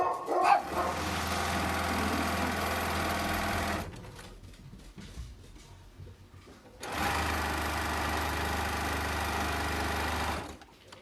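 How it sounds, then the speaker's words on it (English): Dogs bark in a home sewing room, mixed in with the steady whir of a sewing machine running in two long bursts separated by a quieter pause. "Oh, and here go the dogs."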